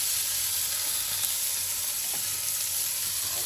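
Ingredients for moules marinière soften and brown in a pan over a Weber Kettle grill, giving a steady, even sizzle and hiss throughout, with no talking.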